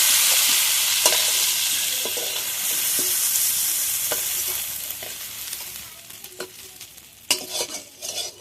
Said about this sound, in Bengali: চিংড়ি মাছটা ভালোভাবে ভেজে নিয়েছি